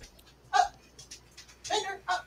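Dogs giving a few short yips and whimpering cries in separate bursts, indoors and at moderate distance, with quiet gaps between the calls.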